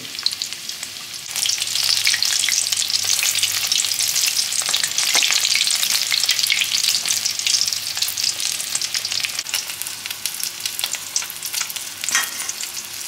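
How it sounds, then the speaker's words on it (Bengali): Egg-battered katla fish fries in oil for chilli fish with a loud, continuous crackling sizzle and dense popping that holds steady throughout, with no voices. "মাছগুলো আমার ভাজা হচ্ছে, এক পিঠে উল্টে দিয়েছি।"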